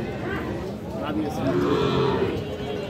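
Bull calves and other cattle moo at the Ambari livestock market, with a long, low call rising over steady crowd noise and background chatter.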